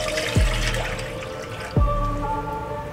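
About two and a half glasses of water are poured into a pot for sweet corn soup, a steady, close splashing stream with two brief deeper gulps.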